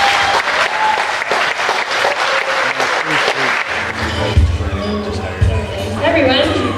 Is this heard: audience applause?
yes